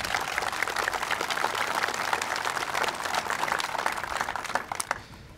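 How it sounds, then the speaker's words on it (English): A crowd at an outdoor law enforcement support rally in Texarkana applauds steadily, dense clapping sustained for about five seconds before fading out at the end. "Let's give them a round of applause."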